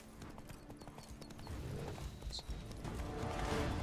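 Hooves of Roach, Geralt's horse in The Witcher 3, clip-clop steadily across the whole stretch, moderately close, with faint mechanical clicks and a brief chime in the game mix.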